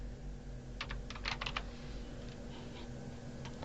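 A short flurry of keystrokes on a computer keyboard, a few quick clustered taps over a low steady hum, close and quiet, with no speech.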